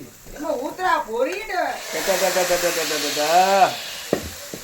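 A steady sizzling hiss of spices tempering in hot oil for a fish curry cooked aboard a boat at sea, running beneath loud, close talking throughout.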